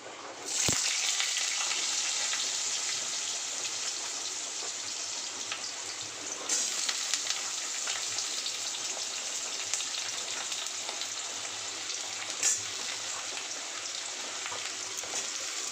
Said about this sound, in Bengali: দেখো আলুগুলো একটু লাল লাল করে ভাজবো